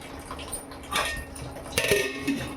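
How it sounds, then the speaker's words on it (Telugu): A metal lid is set on a pot of simmering fish curry, with a few close clinks and scrapes of metal on metal over a low background hiss. "ఇప్పుడు మూత పెట్టేద్దాం"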